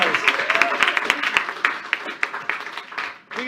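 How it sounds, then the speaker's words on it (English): Audience applause at an improv comedy show fills the room, a dense steady patter of many hands clapping with sharper individual claps standing out, fading slightly toward the end. "Big round of applause."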